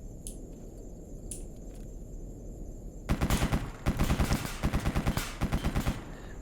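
A firefight in the video game Escape From Pripyat: after a quiet, faintly ticking stretch, loud rapid automatic gunfire breaks out in several close bursts with brief gaps between them.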